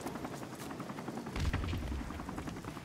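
Attack helicopter and gunfire in a video game, with dense rapid shots and a rotor drone, growing heavier and louder midway through.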